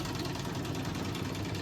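A home embroidery machine stitches a quilting motif on a mini wall hanging, giving a steady, close mechanical hum with a fast even needle rhythm and no talking.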